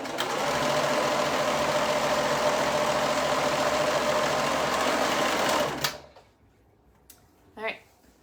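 A sewing machine runs steadily for about six seconds, stitching the top and bottom of a bow-back dress, then stops abruptly, leaving a few faint handling sounds and a brief voice afterward.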